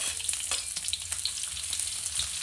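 Fried rice, nasi goreng, sizzles in a hot pan in a home kitchen, a steady crackling hiss with small pops and faint stirring scrapes, close up and continuous, with no talking.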